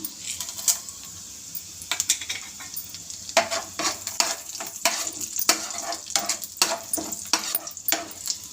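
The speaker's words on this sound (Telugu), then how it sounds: "ఇక్కడైతే దీనిలో పోపు గింజలు అయితే వేస్తున్నా" Tempering seeds crackle and sizzle in hot oil in a pan, with a bright steady hiss broken by frequent sharp pops and clinks of stirring, close and without voices.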